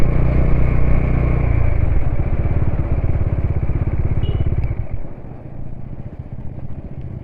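A Bajaj Dominar 400 motorcycle with a 373cc engine is ridden, its loud, steady engine drone close by. The tone shifts around two seconds in, then eases and drops lower after about five seconds.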